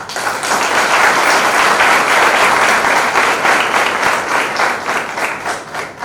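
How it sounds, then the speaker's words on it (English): Loud, sustained applause from a large crowd, steady clapping filling the space for several seconds without letting up. "I think that deserves a very loud round of applause."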